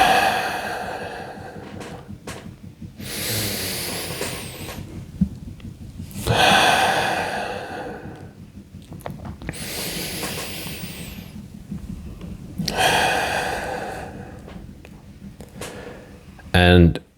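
Deep breaths during a breathing exercise for energy. Four long, airy inhale-and-exhale cycles come close and fairly loud, with quiet gaps between them and a short sharp breath at the end.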